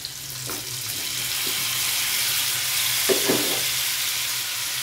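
Tomatoes going into liver frying in a pan, a continuous soft sizzle with a few brief stirring knocks and clatters partway through.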